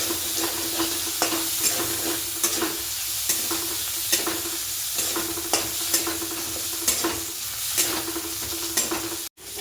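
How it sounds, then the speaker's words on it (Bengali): Food being sautéed in a pan with salt, cumin, coriander, chili and turmeric powder, a constant close sizzle broken by repeated scraping stirs from a spatula, with a sharp knock near the end and no talking. "নুন, জিরে গুঁড়ো, ধনে গুঁড়ো, গুঁড়ো মরিচ আর হলুদ গুঁড়ো, এগুলো সব দিয়ে এটা ভালো করে কষানো হচ্ছে।"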